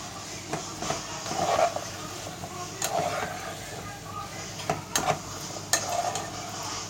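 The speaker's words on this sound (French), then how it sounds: "Je vais mélanger." Food being stirred in a pan, with scraping and clinking of a utensil and a soft background sizzle, under someone talking.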